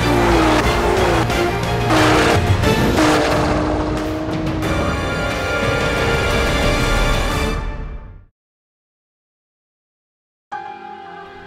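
Nissan AMS Alpha 12 GT-R, a heavily tuned street-legal car, accelerating hard with a loud, rising engine roar for about eight seconds, then abrupt silence before a brief engine sound returns.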